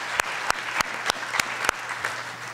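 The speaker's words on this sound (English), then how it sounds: "a quick round of applause for them as well" Audience applause at an entrepreneurship talk, a brief moderate round of clapping with a few sharper claps standing out, fairly distant and steady.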